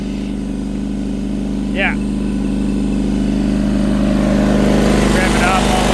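A TMR feed mixer mixing dairy cattle feed drones steadily with a loud, continuous low engine hum that builds slightly toward the end, while a voice speaks briefly in the middle.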